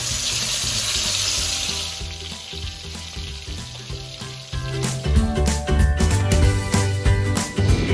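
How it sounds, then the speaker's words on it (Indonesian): Meat fries in a home-kitchen pan with a loud, continuous sizzle and crackle that grows busier and heavier partway through, with no voices. "Jadi ini daging goreng."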